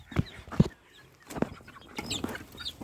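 Hens and chicks at a home poultry breeding pen, with chicks let out of a netted enclosure: short, close clucks and chirps in uneven bursts, some sharp and loud, over light movement noise.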